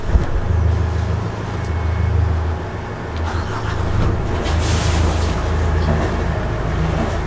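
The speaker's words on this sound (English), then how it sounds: "To start the engines, hold down on start." Boat engines rumbling on a Lagoon 42 catamaran, a loud low idle drone that stays steady for several seconds with a slight swell partway, no talk over it.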